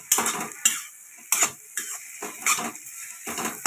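A spoon stirring okra (bhindi) in a pan for a simple Jain-style Maharashtrian bhaji, with five or six sharp scraping strokes against the metal spaced about half a second apart and a soft sizzle between them, close by and with no talking.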